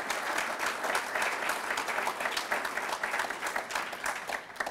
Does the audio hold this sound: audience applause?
yes